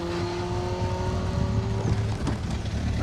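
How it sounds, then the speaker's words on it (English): Historic Mini rally car at a stage finish on an asphalt rally, its engine a low steady drone at moderate distance with a brief rise in revs toward the end. "we have got the third of the historic minis into the finish though"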